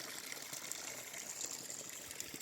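Water flows into homestead land from an outside source as a faint, steady trickle and gush, soft and continuous, with no talking.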